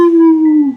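A voice imitates a wolf-like howl, one sustained close, loud tonal cry that holds steady and then bends downward as it fades out at the end.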